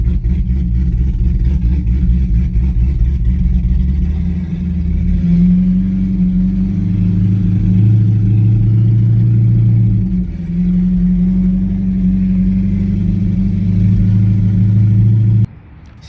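A C6 Corvette with a 416 engine warms up at a racetrack, its loud low rumble holding steady with a couple of gentle swells in revs before cutting off at the end.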